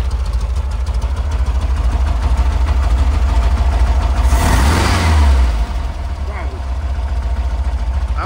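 A 1977 VW Combi T2b engine running through a double T-Bird exhaust, a steady idle that swells into a brief rev before settling back. Someone talks over it.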